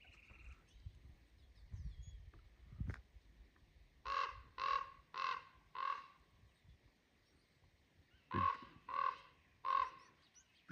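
Raven calling outdoors at Boronda Lake, a set of four throaty caws and then a set of three, spaced evenly, at moderate distance with a little natural echo over faint background ambience.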